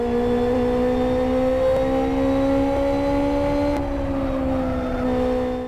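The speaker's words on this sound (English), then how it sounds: "the Formula BMW has stood the test of time in terms of handling and sounds, providing an engaging challenge with the added immersion of a convincing engine sound" Formula BMW open-wheel race car engine in the Live for Speed racing sim, a steady loud tonal drone holding near-constant revs with a slight pitch rise and dip, alone without talk.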